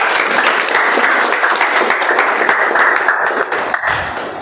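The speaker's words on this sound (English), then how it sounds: "Can we have a better round of applause for her?" A room of attendees at a Toastmasters-style meeting gives a continuous round of hand clapping that holds fairly even for several seconds before thinning slightly at the end.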